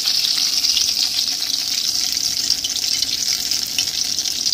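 Coated paneer pieces frying in hot oil on high flame, a steady close sizzle with a bright hissing crackle that holds evenly throughout, with no voices.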